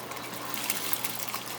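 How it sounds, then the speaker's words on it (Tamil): A kilogram of soaked, drained basmati rice goes into a pot of boiling water for Chennai-style marriage biryani, giving a brief rushing, splashing gush over faint bubbling, close by and alone. "1 கிலோ பாஸ்மதி அரிசி வந்து இதில் வந்து சேர்த்துக்கலாம்"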